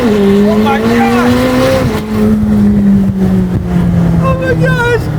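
A 2022 McLaren 765LT Spider roars through a launch-control start with slight tire spin on a public road, its loud, close engine note climbing then dropping through gear shifts while people talk and exclaim over it.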